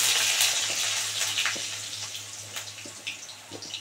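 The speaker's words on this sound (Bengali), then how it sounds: "আলুটা আগে ভালো করে সুন্দর করে ভেজে নেবো" Potatoes frying in hot oil in a home kitchen pan, a close, steady crackling sizzle with soft bubbling and faint stirring clicks throughout, heard alone without talk.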